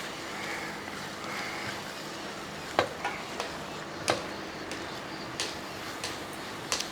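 Beetroot halwa with sugar is stirred in a pan, giving a soft continuous sizzle broken by a few sharp scrapes and knocks of the spoon against the pan's side, fairly quiet and close.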